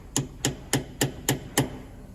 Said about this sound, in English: stick it on there, whack it on with my big friendly hammer